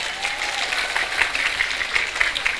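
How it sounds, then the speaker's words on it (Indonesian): An audience at a comedic Islamic sermon bursts into dense, sustained clapping, a steady wash of hands throughout with faint crowd noise beneath. "tepuk tangan untuk"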